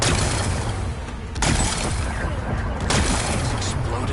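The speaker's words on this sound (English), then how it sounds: "Gotta blast away some rocks, so I can expose the power cell." Rock-blasting explosions in the video game Horizon Forbidden West sound as a dense, rumbling barrage with two sharp blasts standing out, loud and continuous under layered game noise.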